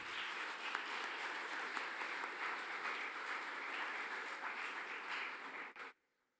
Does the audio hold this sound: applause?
yes